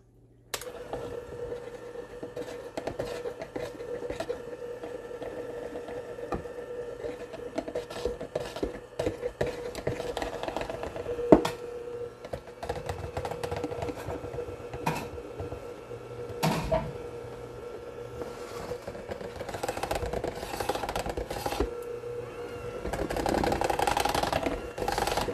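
Electric mixer beaters blend dry ingredients into banana bread batter, giving a steady motorized whir with rattling texture that runs throughout and swells louder toward the end, with no talking.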